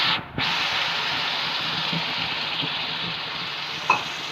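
Tomato paste hits browned onions in a pot for beef paya and sets off a loud, continuous sizzle. A sharp clatter comes at the start and a light clink comes near the end.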